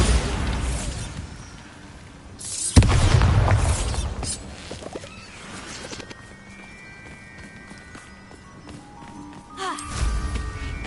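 A Bombarda blast spell goes off in Hogwarts Legacy, a sudden loud boom with a rumbling burst that fades over a couple of seconds, followed by quieter game effects and a second smaller impact near the end.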